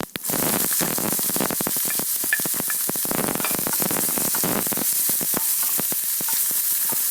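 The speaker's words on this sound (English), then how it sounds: "I'll fry until the onions turn translucent." Cumin seeds and minced onions fry in a pan with a loud, dense sizzle and rapid crackling pops. A near, continuous hiss runs through with no talking.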